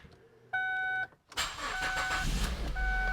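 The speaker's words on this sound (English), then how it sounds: "I'll start the car." A Ford Focus with an automatic transmission fault cranks and fires up after a couple of electronic dashboard chimes, then settles into a steady idle close by.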